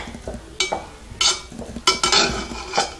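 A spoon scrapes and clinks against a metal pot while mushroom pulao rice is stirred, several distinct clattering strokes at close range with soft rustling between them and no talking.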